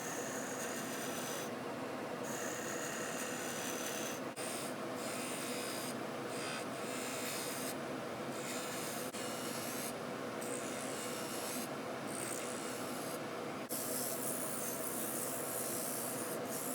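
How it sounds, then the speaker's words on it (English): A wooden spacer for a soapbox car's steering mechanism being turned on a lathe, giving a steady, continuous rasping scrape of tool on spinning wood with brief pauses and shifts in texture, no talking. "we'll hop on over to the lathes and we'll turn a piece to go on there"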